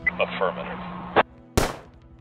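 Gunshots in the video game Rebel Cops: a loud sharp shot cracks close up, then a second blast follows after a brief pause, with voices and game sounds heard before them.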